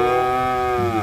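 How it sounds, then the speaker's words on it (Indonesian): A toy water buffalo gives one sustained, loud lowing moo, close and alone, its pitch sliding slightly downward toward the end. "Yang ini ada kerbau."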